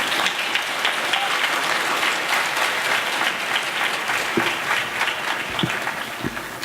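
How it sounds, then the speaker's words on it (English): Steady applause from an audience at a high school class day ceremony, continuous clapping throughout with a few louder claps near the end, no speech over it. "Let's give these guys a round of applause."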